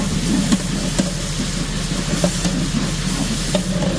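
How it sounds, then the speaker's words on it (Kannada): Ginger garlic paste frying in oil and butter, a loud, close, steady sizzle and hiss with occasional stirring scrapes and taps of a spoon against the pan. "ಜಿಂಜರ್ ಗಾರ್ಲಿಕ್ ಪೇಸ್ಟ್ ಪಾಡ್ದು ಎಣ್ಣೆ ಪಾಡ್ದು ಪಕ್ಕಂತೆ ಬಟರ್ ಪಾಡ್ದು ಅವೇನು ಫ್ರೈ ಮಲ್ತಂದಲ್ಲಿ ಜಿಂಜರ್ ಗಾರ್ಲಿಕ್ ಪೇಸ್ಟ್"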